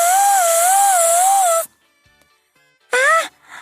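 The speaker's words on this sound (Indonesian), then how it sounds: "Oh, Umayyah, itu adalah suara ambulan." Ambulance siren heard up close, a loud wavering wail that stops abruptly, followed by quiet and then a short second burst of the siren's rising tone.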